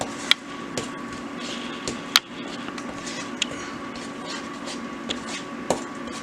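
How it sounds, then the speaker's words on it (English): A spoon stirs hot spinach dip in a dish, giving soft scraping and occasional sharp clinks against the container, fairly close and steady under a constant low kitchen hum. "And then we're going to stir it up."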